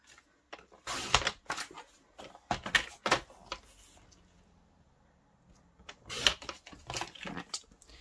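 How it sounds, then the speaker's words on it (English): White cardstock is trimmed down to 3 by 3 inches, with several sharp sliding cuts and paper handling bursts separated by quiet pauses, close and crisp. "I'm going to grab some basic white again and I'm going to cut this"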